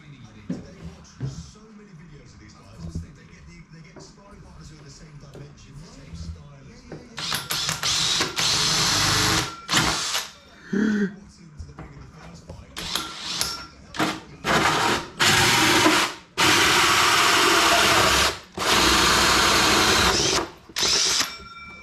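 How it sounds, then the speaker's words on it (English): A 3-inch (76 mm) hole cutter on a drill bores through a panel for a carb. After a quiet start it makes loud grinding bursts, cutting in and stopping several times. "He's got a hole cutter. 3 inches, 76 mil."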